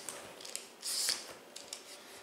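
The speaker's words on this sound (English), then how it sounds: "just pull the peeler towards the blossom end of the squash" Vegetable peeler pulled along a butternut squash toward the blossom end, giving a quiet, close scraping rasp that builds to one brief, stronger stroke in the middle, with fainter light scrapes around it.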